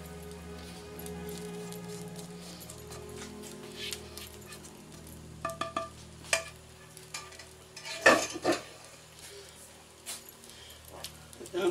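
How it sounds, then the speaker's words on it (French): Onion soup being stirred after toasted flour is added, with a spoon scraping and clinking in the pot amid soft sizzling and scattered knocks, louder around the middle. "Un petit coup de mélange"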